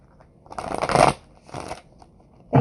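Deck of cards shuffled up close: a long papery riffle, a brief pause, then a second shorter riffle, ending in a soft thump as the deck is squared; no talking.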